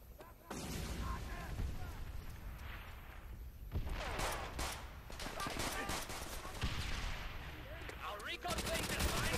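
MP40 submachine gun fire in Call of Duty: World at War, with rapid bursts of automatic shots and booming battle noise that stay loud and dense throughout.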